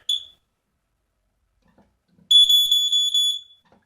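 A household smoke detector pressed on its test button gives a short high-pitched chirp, then after a pause a loud, piercing pulsing alarm tone sounds for about a second, close up and alone.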